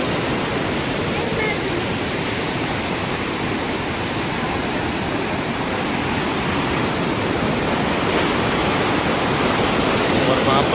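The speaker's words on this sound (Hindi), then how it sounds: "नीचे की तरफ है ये पार्वती नदी है, आप इसका फ्लो देखिए" Fast-flowing Parvati river water below Manikaran, a loud, steady broadband rush that continues without pause from start to finish.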